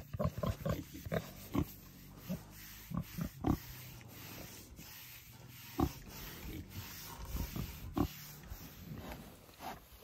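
Pregnant Hampshire cross gilt grunts and snorts in a barn before farrowing, a close series of short irregular grunts and snuffles over a faint steady background hum.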